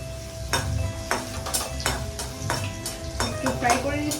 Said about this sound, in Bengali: একটু ফ্রাই করে নিচ্ছি।